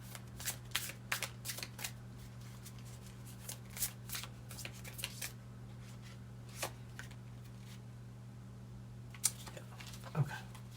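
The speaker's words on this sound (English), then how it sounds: "we have one more card to draw here for you" Tarot cards being shuffled and drawn during a reading, quiet, with soft riffling, flicks and taps scattered irregularly over a steady low hum, with no talking heard.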